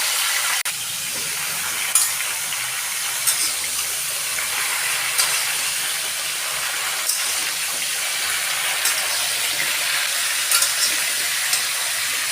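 Bay leaves, dried red chillies and panch phoron fry in hot oil, giving a steady, close sizzle with occasional small pops and no voices.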